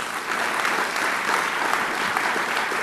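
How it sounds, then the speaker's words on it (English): Sustained audience applause at an awards ceremony for a spring sports dream team, a dense, steady roar of many hands clapping at close range, filling the whole stretch without a break. "Can we get a round of applause for Mac?"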